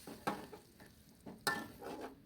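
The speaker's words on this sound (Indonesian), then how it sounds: "Langsung aja diaduk-aduk ya supaya bumbunya itu tercampur." Spice paste and water for pepes ayam stirred in a pan, a few distinct scraping strokes with soft sizzling between them, close and alone with no talk.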